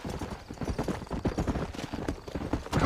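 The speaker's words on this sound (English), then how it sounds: "You ain't gonna find sturdier horses than these in all of New Ulster." Horses trot in the video game Red Dead Redemption, their hooves clip-clopping in a quick, steady rhythm close by, with a faint rumble of movement underneath.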